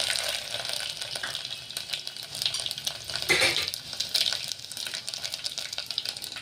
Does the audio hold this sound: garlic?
yes